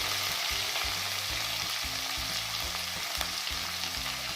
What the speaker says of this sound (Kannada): ಆನಿಯನ್ ಫುಲ್ ಸಾಫ್ಟ್ ಆಗೋವರೆಗೂ ಚೆನ್ನಾಗಿ ಫ್ರೈ ಮಾಡ್ಕೋಬೇಕು.